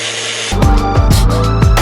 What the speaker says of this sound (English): here I'll hold my sander so it conforms to that curve